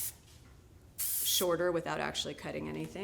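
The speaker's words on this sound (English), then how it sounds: "So I'm just using the Max Control spray again, kind of getting that in place." Max Control hairspray hisses in a sustained burst onto styled hair, followed by someone talking over continued faint spraying.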